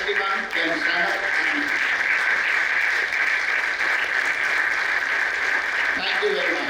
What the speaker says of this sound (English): kindly rise and give them a big round of applause